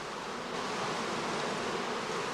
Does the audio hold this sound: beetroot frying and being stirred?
no